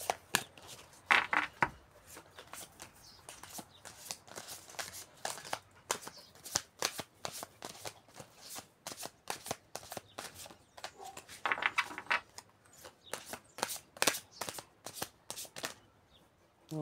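Tarot cards are shuffled by hand in repeated bursts of crisp riffling and flapping, close and clear, with brief pauses between rounds.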